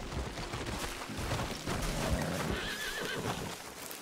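Horse in the video game Red Dead Redemption 2 whinnies loudly over steady hoof clatter, with busy game ambience underneath and no voices.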